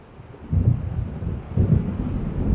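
A thunderstorm in the video game Alan Wake Remastered, with deep rumbles of thunder swelling in two low waves over a background of wind and rain, heard with no voices.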